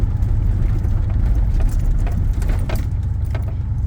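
A truck engine labours under load, a loud low rumble with uneven surges and faint rattling, as if it is straining to pull, heard close and without speech; the plenum is suspected of being about to fail.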